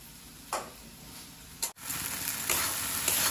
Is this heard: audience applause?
no